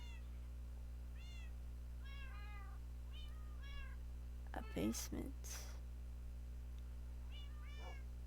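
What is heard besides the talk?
cats meowing in Minecraft video game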